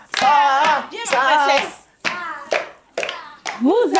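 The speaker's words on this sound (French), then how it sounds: "Allez, on applaudit pour Sarah" Children clap for a classmate in a French children's lesson on obedience, with loud overlapping young voices calling out over scattered hand claps.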